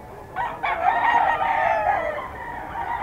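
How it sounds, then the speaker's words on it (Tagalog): Stag roosters at a market sale in Bocaue crow loudly and close by, with one long strained crow trailing into clucking and no voices over it. "Puro mga stag, oh."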